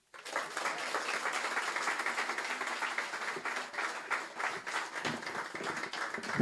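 An audience at a Law Enforcement Torch Run for Special Olympics opening ceremony claps for a performer, a dense, sustained round of applause that carries on for several seconds.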